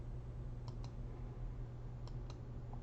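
Faint, crisp clicks of a computer mouse as plugins are activated one after another, heard as two close pairs of clicks over a steady low hum.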